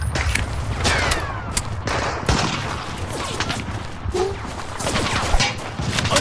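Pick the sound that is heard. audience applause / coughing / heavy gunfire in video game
heavy gunfire in video game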